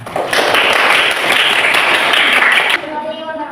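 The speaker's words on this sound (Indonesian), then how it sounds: "Untuk kelompok itu kita sambil tepuk tangan." A classroom of students applauds a student group with dense, steady clapping from about 0.3 to 2.8 seconds, then it cuts off sharply into quieter room noise.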